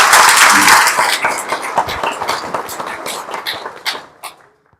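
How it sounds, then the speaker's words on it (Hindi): An audience at a gathering in Nepal claps loudly and close by, the applause starting dense and gradually thinning into scattered individual claps before fading out. "प्लीज सबके लिए एक जोरदार ताली होगा।"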